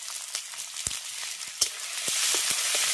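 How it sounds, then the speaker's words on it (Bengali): Ginger, garlic and dried red chilli frying in hot oil with turmeric in a Bengali village-style dish, a steady broadband sizzle with occasional sharp spits and pops, growing louder and denser toward the end. "আদা, রসুন আর শুকনো লঙ্কাটাকে আগে একটু ভেজে নেব।"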